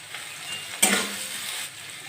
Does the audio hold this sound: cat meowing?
no